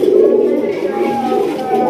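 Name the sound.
pigeons cooing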